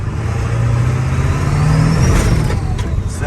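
A car pulling away from a red light in first gear, its engine note rising steadily as it accelerates over a few seconds, heard from inside the cabin.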